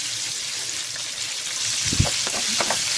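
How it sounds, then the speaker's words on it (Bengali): Chopped onions frying in oil left over from frying fish, a steady crackling sizzle with a few louder pops and spatula scrapes toward the end. "মাছ ভাজা হয়ে গেলে সে একই তেলে পেঁয়াজ কুচি ভেজে নিচ্ছি"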